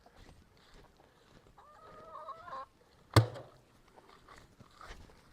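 Barred Rock and Cinnamon Queen hens cluck softly on a farm. A short drawn-out call rises mid-clip, followed by one sharp close knock, against quiet background noise.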